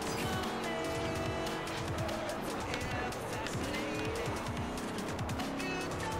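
Race car engine roaring at high revs with squealing tires while drifting through big corners in the Forza Horizon racing game on Xbox 360, loud and continuous, with a voice talking over it.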